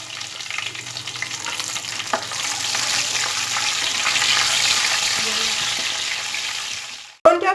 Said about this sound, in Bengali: এবার দিয়ে দেব দুটো চেরা কাঁচা লঙ্কা